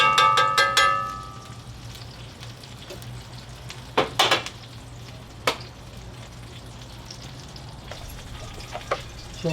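Steak sautés in a pan with a low, steady sizzle, punctuated by several sharp metallic clinks and scrapes of a utensil against the pan, close and without talk.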